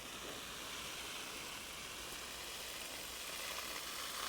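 A garden hose fed by a 12-volt pump sprays water in a warm greenhouse, a faint, steady hiss like light rain that runs evenly throughout with no voices.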